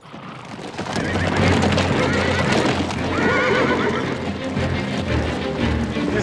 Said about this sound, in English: These are the pack horses Josh had with him, aren't they?